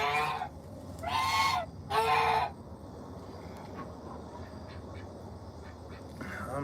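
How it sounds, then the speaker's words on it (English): Backyard geese and ducks calling at feeding time, two loud bursts of honking and quacking close by, followed by quieter scattered calls over a steady outdoor background. "I'm led to believe that's our female goose from the previous owners"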